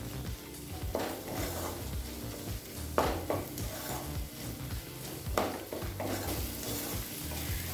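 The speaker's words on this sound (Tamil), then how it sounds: "எல்லாத்தையும் சேர்த்து நல்லா வதக்கிக்கலாங்க." Chopped onion, tomato and chili with coriander powder sizzle in a pan while a spoon stirs and scrapes repeatedly, giving periodic bursts of clatter over a steady fry.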